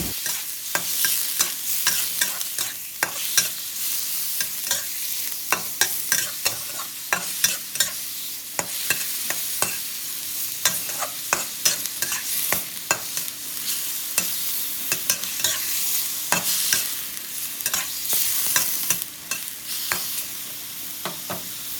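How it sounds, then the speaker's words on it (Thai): Beef stir-frying in a pan for a beef and onion dish, a steady hiss of frying broken by frequent sharp scrapes and clacks of a utensil against the pan, close and continuous with no voices. "ผัดเนื้อให้สุกพอประมาณ"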